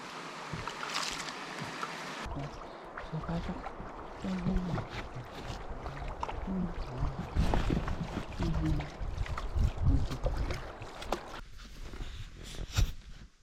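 Canoe paddling on the Yukon River during a long-distance race, with paddle strokes and water splashes against the hull, wind and a faint snowy outdoor ambience, steady and close, and people talking occasionally.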